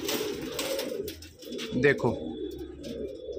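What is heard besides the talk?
pigeons cooing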